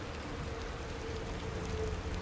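Steady rain falls in the video game The Evil Within, a soft, even hiss with no breaks, heard alone without talk.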